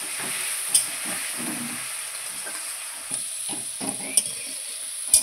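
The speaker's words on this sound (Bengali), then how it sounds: "আলুগুলো আমি লাল লাল করে ভেজে নেব।" Potatoes frying in oil until browned, producing a close, steady hiss and crackle with occasional scraping stirs and small clinks of a utensil against the pan.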